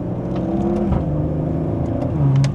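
Maserati Ghibli Modena with a V6 engine, its exhaust note a steady, close-miked low droning hum with a slight rise in revs near the end, no voices over it.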